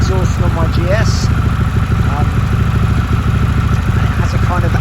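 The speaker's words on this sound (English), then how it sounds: "has a very untypical but typical Harley burble to it. It's a louder exhaust than my GS." A Harley-Davidson Pan America 1250 Special motorcycle idles with a deep, lumpy burble from a loud exhaust, loud and close, while someone talks over the engine.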